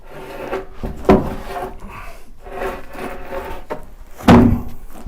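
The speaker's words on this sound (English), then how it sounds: "As I'm rolling this scaffolding board, the ladder all the way over there is rocking and shaking." A scaffolding board rolls and scrapes across a rotten wooden floor, producing rough, grinding wooden rubbing in several pushes with two louder knocking thuds, close and fairly loud.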